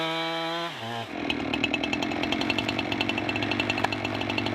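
A portable chainsaw mill bites into a big log: the chainsaw idles and revs, then settles into a loud, steady cutting drone with rhythmic pulsing as the mill rides along the guide bars.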